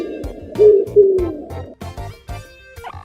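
Pigeon cooing in soft, low rounded notes, a few close calls repeated over about three seconds with brief pauses between them, no voices present.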